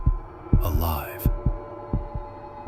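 Slow, deep heartbeat effect in an eerie narrated story, a series of low, evenly spaced thumps with a brief high, warbling tone swelling over them midway.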